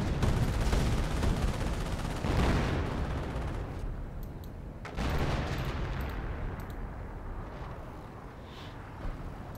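Off-map artillery strike in the Company of Heroes video game: heavy, rumbling blasts and dense gunfire-like crackle fill the scene, with a fresh sharp impact about midway before the din gradually thins.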